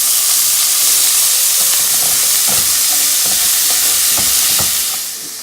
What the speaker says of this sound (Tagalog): Kapag po naigisa na pong maigi itong corned beef sa ating bawang sibuyas